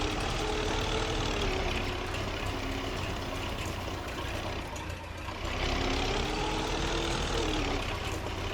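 A small farm tractor's engine in the Farming Simulator 25 video game drones steadily at an even, moderate level, a continuous low rumble with a slight dip and swell midway and no talk over it.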